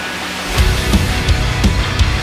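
A rock mix builds through a rising riser into a massive impact and a double cymbal crash launching the chorus, with heavy drums and bass pounding in repeated loud hits.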